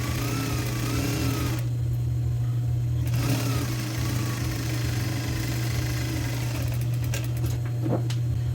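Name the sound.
sewing machine stitching the center back seam of a blouse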